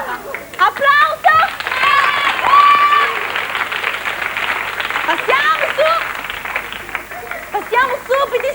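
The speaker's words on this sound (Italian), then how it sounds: "Brava! Applauso!" A studio audience applauds a young dance student during a televised dance lesson. The clapping is loud and sustained, with excited voices and cheering over it.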